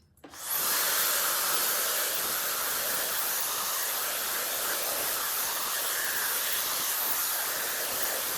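A Babyliss AirWand hair dryer blows steadily while drying hair, a loud, continuous airy roar that starts within the first half second and holds unchanged to the end, with no talking.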